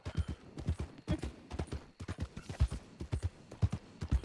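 Horse hooves clip-clop at a steady gait on a trail in the Wild West role-play game RedM, the beats close and distinct with a loose rhythm throughout.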